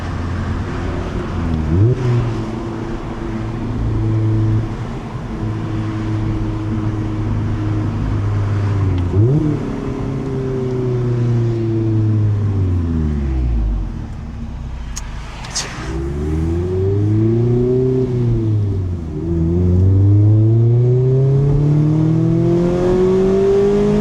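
A car engine pulls hard through a right-hand bend, revs rising and falling through several gear changes with loud, close drone and brief dips between shifts.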